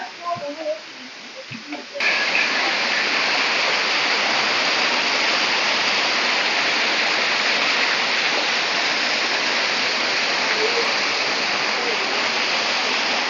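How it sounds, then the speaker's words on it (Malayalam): Water rushes in a steady, loud broadband roar at Vazhani dam, starting after a moment of faint voices and continuing unbroken to the end. "അവിടെ ഒരു സൗണ്ട് കേൾക്കുന്നുണ്ടേ എനിക്ക് തോന്നുന്നു വെള്ളം ഒഴുകി പോകുന്ന സൗണ്ടായിരിക്കും"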